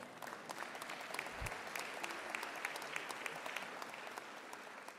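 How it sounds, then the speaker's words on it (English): A crowd applauds steadily in a large room at a university graduation ceremony, the clapping fairly faint and distant, continuing evenly throughout. "Now, I thought you would applaud that."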